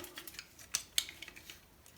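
Small plastic clicks and snaps come from Transformers Armada toy parts being folded and rotated, a handful of quiet, close ticks with two sharper clicks near the middle.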